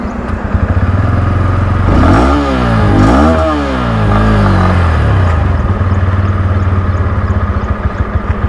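A Bajaj Pulsar N125 motorcycle engine roars loud and close during a drag race, rising through sweeping revs as it accelerates and shifts gears, then settling into a steady high drone with wind buffeting.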